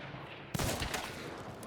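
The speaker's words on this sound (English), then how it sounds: "I do get shot at from my left." Gunfire in a first-person shooter video game, a sudden burst of shots starting abruptly after a quiet moment, fairly close and sharp, with rapid follow-up cracks.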